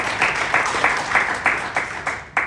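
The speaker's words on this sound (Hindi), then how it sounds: "और उनके लिए भी प्लीज़ बहुत सारी तालियां राजा हमजा के" Audience applause at the EPCA annual general cricket captains meeting for Raja Hamza, a steady wash of many hands clapping with rhythmic swells, moderately loud and with no talking over it.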